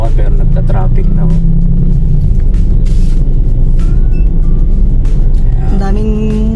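Motorcycle sidecar tricycles move through busy small-town traffic in Calauan, Philippines, with a loud, steady engine rumble and passing vehicles close by while people talk over the noise.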